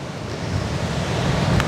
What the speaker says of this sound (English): It's a bit too windy to talk right now